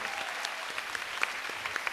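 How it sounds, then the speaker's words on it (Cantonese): Steady applause from a studio audience for the music director and band members at a televised music special, a dense even wash of clapping with a few sharper claps standing out. "我哋俾掌聲，今日我哋嘅音樂總監何炳俊先生同埋所有樂隊嘅成員"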